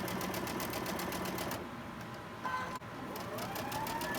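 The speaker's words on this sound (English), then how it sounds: "Let's get those two put together and sew. Let's go ahead and sew these up." A sewing machine stitches quilt block pieces together with a steady, fast mechanical whir. It pauses briefly once and then runs again, loud and close with no voices.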